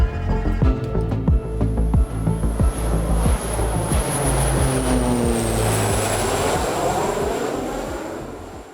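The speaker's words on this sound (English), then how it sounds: "Europe's largest twin-engine passenger jet took off for its maiden flight on Thursday" A large twin-engine passenger jet roars loudly on its maiden takeoff. A rumbling engine build-up swells into a steady, powerful roar with a high whine riding on top.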